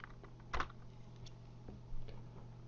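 Keystrokes on a computer keyboard come as sparse, faint clicks over a low steady hum, with a couple of slightly sharper taps.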